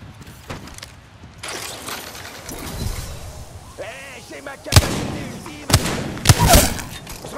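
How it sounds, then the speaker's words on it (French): A grenade launched amid a firefight in a video game, several loud booming hits and sharp gunshots spaced over the seconds, a whistling whir in between, with a player's voice talking underneath. "Grenade FAG lancée."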